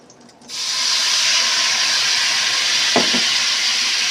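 Lemon juice hitting a hot pan to deglaze it beside pork loin pinwheels, a loud steady sizzle and hiss that bursts in and holds, with a brief clunk partway through.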